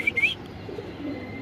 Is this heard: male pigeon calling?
yes